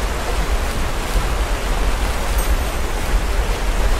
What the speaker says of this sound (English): Actually sounds like a waterfall's hitting.